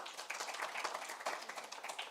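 Conference audience clapping for presenters at a session on ethical AI in interpreting, scattered light hand claps at moderate distance, fairly quiet and uneven over a couple of seconds.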